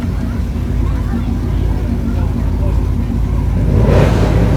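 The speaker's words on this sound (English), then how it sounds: "See, that's the way a car should sound." Classic car engine at a July 4th parade in Harrisburg, a continuous low rumble that swells slightly near the end as the car passes close by.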